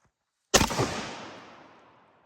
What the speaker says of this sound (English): We shot 3 rounds at 3-inch double-aught buck Magnum through it.